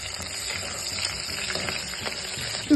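Cashews, green chillies and onion fry in hot oil for veg biryani, giving a dense, close sizzle with light scraping from stirring and a short clatter at the end.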